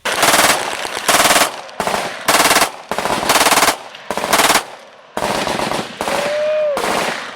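A Glock Model 18 full-automatic pistol fed from a 33-round Glock factory magazine fires loud, close bursts of rapid shots, seven bursts in all separated by short gaps, with longer strings toward the end.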